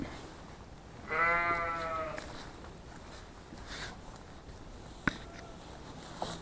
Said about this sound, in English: Lots of sheep in here.